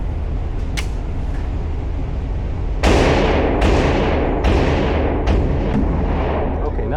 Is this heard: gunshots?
yes